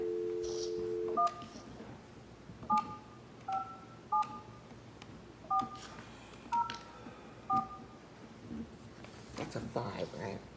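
Telephone keypad tones beep one at a time during a historic district review board meeting, about eight short separate tones spaced unevenly, quiet against the room, with people talking softly near the end.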